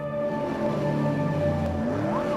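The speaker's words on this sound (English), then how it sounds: "The sound of motors revving." A car engine revs and drones steadily, its pitch rising and falling as it accelerates, loud and close.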